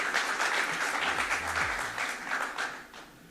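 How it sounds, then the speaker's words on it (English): A conference audience at an Indo-UAE trade conclave claps warmly after a keynote introduction, a dense crowd applause that holds steady then tapers off near the end. "Let's give him a very, very warm round of applause."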